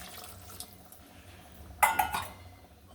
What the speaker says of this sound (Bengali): সামান্য আর একটু জল দিয়ে দিচ্ছি।